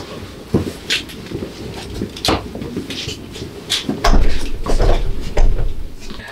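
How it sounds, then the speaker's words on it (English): A locked door is tried and rattled several times without opening, sharp knocks and clunks recurring over a few seconds before a heavier, longer rattle, with no one speaking. "Weird, this door won't open."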